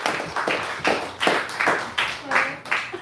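Members of a church congregation at a Sunday morning service clap in a series of distinct, strong bursts, several sharp pulses close by, with some voices mixed in.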